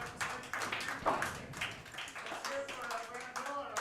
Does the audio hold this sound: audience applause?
yes